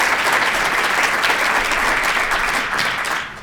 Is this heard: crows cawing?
no